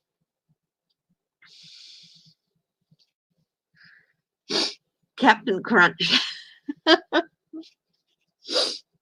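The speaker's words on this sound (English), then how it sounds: "I'm going to sneeze." A person's sneeze, preceded by a soft intake of breath, then a cluster of short explosive bursts and snorts close to the microphone, with a final sharp burst after brief spoken words.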